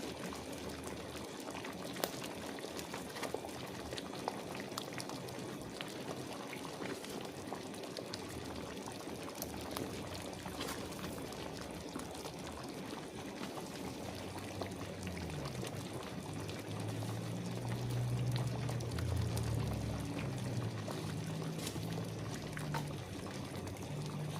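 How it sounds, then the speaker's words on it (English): A pot of chicken foot and chicken back soup with Idaho potato, breadfruit, carrot and celery boils steadily as dumplings go in, with a continuous bubbling wash that swells slightly louder toward the end. "so now I'm gonna add my dumpling"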